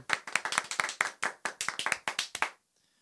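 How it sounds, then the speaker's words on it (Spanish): Audience clapping at a live hardcore show, a loose burst of close, sharp handclaps for about two and a half seconds before cutting to silence. "tengo el honor de presentar a Concetti, para quien pide un nuevo y fuerte aplauso"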